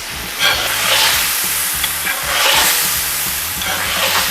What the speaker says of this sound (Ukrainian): вся вода випарувалась, сердечки почали смажитися